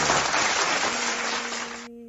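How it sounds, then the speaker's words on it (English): A canned applause sound effect is played during a podcast, a burst of bright, dense clapping and cheering that runs steadily for almost two seconds before cutting off abruptly, leaving a faint hum. "let me hit some round of applause here"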